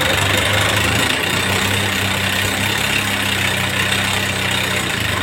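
A Honda Scoopy scooter engine idles very roughly with a steady, loud uneven chugging and a knocking undertone, running alone and close throughout.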